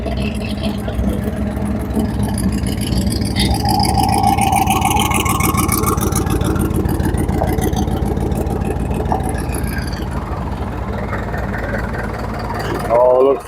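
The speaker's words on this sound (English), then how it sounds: "Oh, look, sounds like a Cummins." A Cummins diesel engine rumbles steadily at close range, idling with a low throbbing drone while a voice speaks over it.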